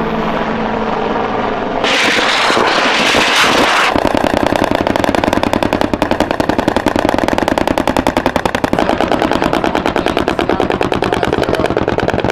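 Helicopter-mounted guns fire long rapid bursts during a live-fire close air support exercise, a dense rattling stream over the constant thump of rotors and engine, loud and close.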